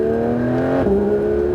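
Porsche 911 GT3 accelerating on the Circuit du Castellet race track: a loud, steady engine whine climbing in pitch, a quick gear change drops it, then it resumes rising from inside the car.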